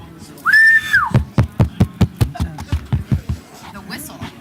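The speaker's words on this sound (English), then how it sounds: "The whistle." At a planning board meeting, a single rising, sustained whistle tone, loud and close, followed by a series of sharp rhythmic knocks of a gavel banging repeatedly.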